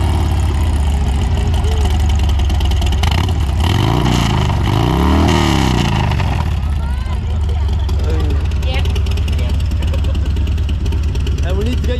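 A Harley-Davidson motorcycle, one of a Road King, Road Glide or Iron 883 Sportster, idles close by with a steady, loud, deep exhaust throb and a few light revs, while people talk over it.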